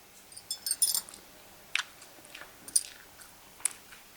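Close, crisp crunching bites and chewing of hotel-style spicy chicken fry, irregular clusters of sharp crackly bursts separated by brief quiet pauses, with no talk.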